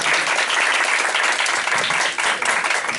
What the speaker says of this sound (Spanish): solicitar un fuerte aplauso y darle la bienvenida